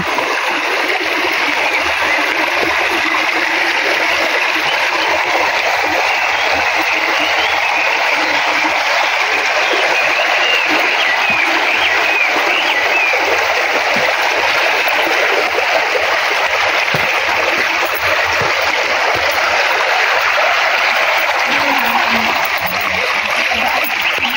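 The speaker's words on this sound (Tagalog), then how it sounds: "Yung tunog sa tubig. Yan yung nakaka-relax." Water flows and splashes steadily nearby in Hong Kong, a loud, continuous rushing that holds without a break throughout.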